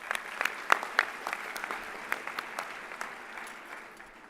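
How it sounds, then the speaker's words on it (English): Audience applause at a high school commencement ceremony, a crowd clapping steadily with sharp individual claps standing out, moderately distant, gradually thinning toward the end. "How about a big round of applause for our principal?"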